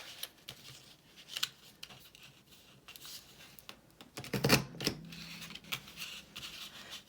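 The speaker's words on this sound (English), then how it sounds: "And then I will trim this off really fast." Scissors trimming thick cardstock on an embellished art journal, with scattered light scrapes and then a brief burst of close, crisp snipping.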